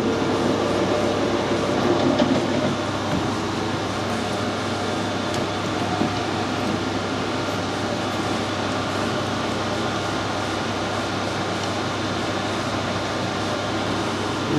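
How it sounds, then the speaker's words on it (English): A lathe cuts a small groove into the centre of a worn pin, giving a steady, even mechanical whirring drone that holds for the whole stretch, with no talking. "I'm just going to machine a little groove in the centre"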